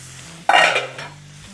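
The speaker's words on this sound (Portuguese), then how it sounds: "Logo em seguida eu coloco a cebola e continuo mexendo." Onion being stirred in a pan, a single short burst of scraping and light sizzle rising over a low steady hum, then fading back to quiet background.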